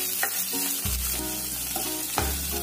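Chillies and vegetables frying in a hot pan for Veg Manchurian, a steady loud sizzle broken by a few sharp stirring scrapes and knocks against the pan.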